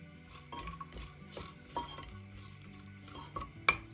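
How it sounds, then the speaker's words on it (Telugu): Cloves and a small piece of cinnamon frying in a pan, stirred with a spatula: soft scraping stirs and light clinks of utensil on metal over a faint low sizzle, ending in one sharper knock. "చిన్న చెక్క ముక్క వేసి ఇప్పుడు వీటన్నిటిని కూడా వేయించుకోవాలి."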